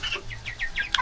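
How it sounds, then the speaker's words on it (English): Three-week-old broiler chickens on a poultry farm give a quick run of five or six short, high clucks and peeps, close and fairly loud, with no talking. "this is what a 3-week chicken looks like"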